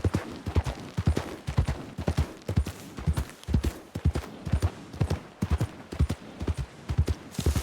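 Horse hooves clip-clopping in Red Dead Redemption 2, a steady rhythmic trot of close, distinct hoof strikes continuing throughout.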